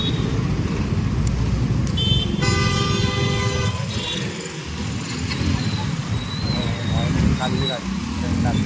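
Busy road traffic with engines rumbling close by and a car horn honking in a sustained blast, plus a few shorter toots, while a voice talks over the noise.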